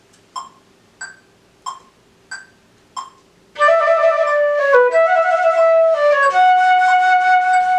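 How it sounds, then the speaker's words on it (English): Five steady, evenly spaced metronome clicks on eighth notes tick alone, then a flute enters and plays a phrase over the beat. "So it sounds like this with the metronome on eighth notes."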